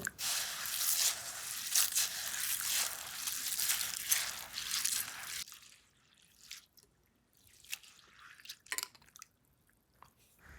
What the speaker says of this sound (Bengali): ডাল আর চালটা 2 থেকে 3 বার পরিষ্কার জল দিয়ে ভালোভাবে ধুয়ে নেব।